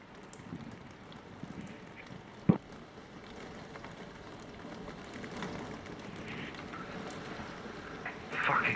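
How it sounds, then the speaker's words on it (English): Steady rainfall in a video game patters on surfaces as a soft, continuous wash, with one sharp knock partway through and a few brighter splashes near the end. "Fucking rain again."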